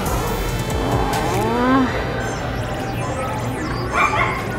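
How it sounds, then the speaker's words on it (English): Puppies at an adoption event yip and bark in short, excited bursts under steady crowd noise in a public indoor space, with some people talking nearby. "You guys, look at all these cute puppies."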